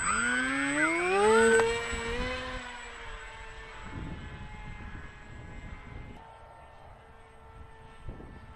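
The electric motor of a Blunt-nose Teksumo RC plane at launch makes a rising, high-pitched whine that swells loudly, then drifts off and fades into steady wind noise outdoors, with no talking.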